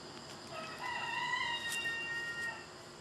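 A neighbor's rooster crows in the distance, its drawn-out call rising over steady background noise and holding faintly for a couple of seconds.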